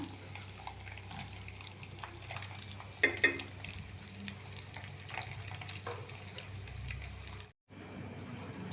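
Homemade ghee simmers in a pan on a gas stove, giving a steady, gentle sizzle and bubbling close by, with a couple of brief utensil clinks partway through and a short silent gap near the end.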